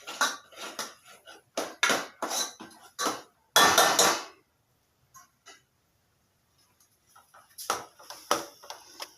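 Clattering metal from a spoon or spatula scraping and knocking in a pan while semolina roasts in ghee for burfi, in sharp clustered bursts separated by quiet pauses.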